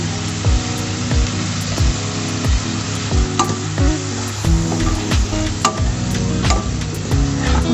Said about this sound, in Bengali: মশলাটা ভালো করে কষিয়ে নেব যতক্ষণ পর্যন্ত আমার মশলা দিয়ে তেল না বেরোচ্ছে ততক্ষণ কষিয়ে নেব